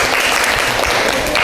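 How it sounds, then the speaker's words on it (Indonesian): Students in a classroom clapping together, a brief, loud and even burst of many hands close by with no pause. "Tepuk tangan untuk kalian semuanya."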